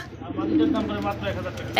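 Pigeons coo at a pigeon market where birds are bought and sold, their low throaty calls rising and falling beneath nearby chatter and voices.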